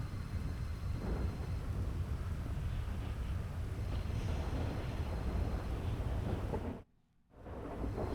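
A thunderstorm in GTA V rumbles as a steady, heavy roar of wind and low thunder that fills the scene, then briefly cuts to near silence before the storm noise returns.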